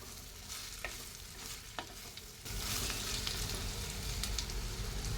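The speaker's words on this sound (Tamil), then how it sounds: "முள்ளங்கி ஒரு நிமிஷத்துக்கு இந்த மாதிரி எண்ணெயிலே வதக்கி விடலாம்." Chopped radish being stirred and sautéed in hot oil for a prawn and radish stir-fry, with a steady close sizzle that jumps louder partway through, and occasional soft clicks of the stirring spoon, with no voices.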